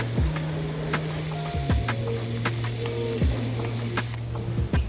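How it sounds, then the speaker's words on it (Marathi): Finely chopped onion frying in a pan for potato paratha filling, a steady close sizzle with intermittent spatula scrapes and taps, no talk. "त्यामध्ये आता आपण बारीक चिरलेला कांदा टाकायचा आहे, तो पण मस्त छान लालसर होईपर्यंत परतायचा आहे"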